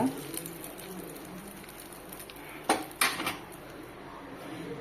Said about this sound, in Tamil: இப்போ நம்ம வந்து ஒரு பவுலில் மாற்றிக்கலாம் இப்போ இந்த துவையலோட இந்த தாளிப்பை இதை சேர்த்துக்கலாங்க